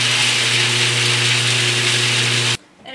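Walnuts being finely chopped for crinkle cookies, heard as a loud, steady mechanical whir, like a small chopper or blender motor, that runs continuously and then cuts off abruptly near the end.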